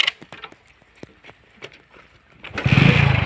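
Scattered light taps and clicks, then a motorcycle engine roars to life nearby and runs loudly through the final second.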